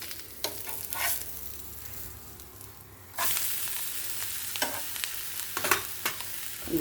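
Dough snack frying in a pan of hot oil, a continuous sizzle with intermittent sharp stirring and turning sounds, no talking.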